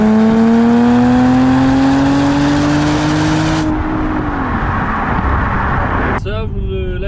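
An Audi S4 engine and exhaust drone steadily and loudly up close, pitch rising slowly before dropping off as revs fall, with a brief burst of added sound near the end.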